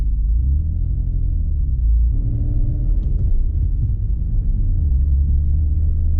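A Mitsubishi VR4 driving on a street, its engine rumbling steadily and loud throughout, with the drone shifting in pitch around a gear change partway through.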